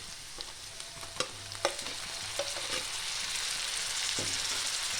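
Eggplant mash ingredients with tomato frying in a pan, a steady sizzle broken by several spoon knocks and stirring scrapes against the pan, then a settled, even crackle continuing alone.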